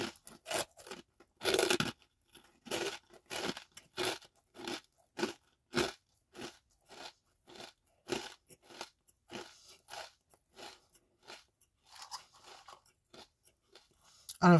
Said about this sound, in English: And of course, the crunch can't be beat.